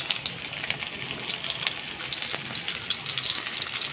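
Onions frying in hot oil alongside sricchandan and fish roe, a continuous close sizzle with fine crackling and spitting, steady in level throughout.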